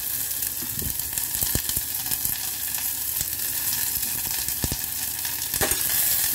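Chopped onion and garlic sizzling in a pan for squid adobo, a loud, steady hiss of frying with occasional sharp crackles and clicks of stirring, close up, no talking.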